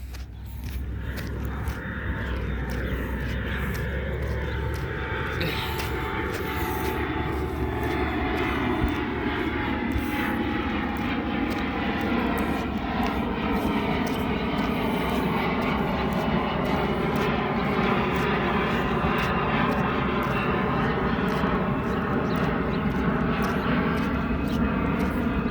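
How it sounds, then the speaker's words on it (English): An airplane taking off over Playa Del Rey beach, California: a loud, sustained jet roar rising and slowly falling in pitch as it passes overhead, with continuous rushing wind and surf noise beneath. "Another airplane going up."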